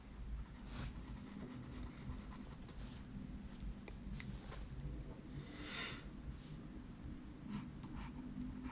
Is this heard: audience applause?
no